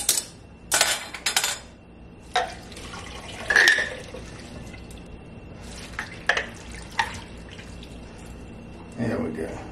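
Fermented pepper brine with garlic is poured through a kitchen strainer into a container, giving splashy liquid bursts and drips mixed with clinks of dishes and utensils, close and intermittent.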